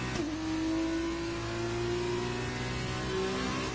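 An F2 race car engine in an F1 racing game at the Singapore street circuit holds a loud, sustained high-pitched whine that rises steadily in pitch as it accelerates, with other engines droning underneath.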